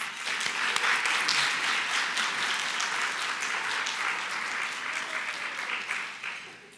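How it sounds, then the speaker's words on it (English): Audience applause for long-serving volunteers at a county volunteer recognition luncheon, a dense, steady round of clapping from a large crowd lasting several seconds before tapering off. "Please give them a round of applause."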